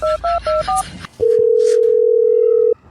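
In a comedy sketch, four quick dialing beeps followed by a long, steady telephone tone that cuts off abruptly, loud and close.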